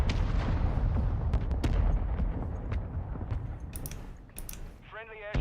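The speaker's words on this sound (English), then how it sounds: "Friendly airstrike." Airstrike blasts in Call of Duty Warzone, with deep rumbling booms and sharp explosive cracks rolling on at close range, a voice talking briefly near the end.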